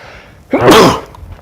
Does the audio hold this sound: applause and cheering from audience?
no